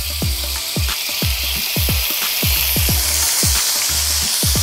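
Ginger garlic paste hits smoking-hot mustard oil and sizzles loudly and steadily, a bright hissing fry up close, with recurring low pulsing knocks underneath.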